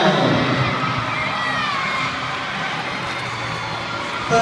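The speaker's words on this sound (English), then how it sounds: "Really cheering skaters home on the final lap now" Crowd cheering speed skaters on the final lap of a 1500m heat, a continuous broad roar of shouts and cheers throughout.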